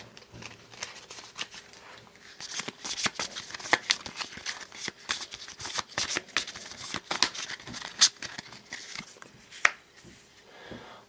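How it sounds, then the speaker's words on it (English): A deck of darkness cards for the Shadows of Brimstone board game being shuffled by hand, a close run of crisp riffling bursts and flutters lasting several seconds, with no talking. "Let me give this a shuffle."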